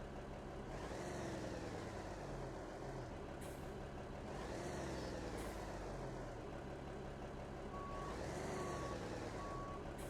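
Steady electronic reversing beeps from a truck in a driving video game, repeating at an even pace over a low engine rumble and occasional air-brake hiss, fairly faint and continuous.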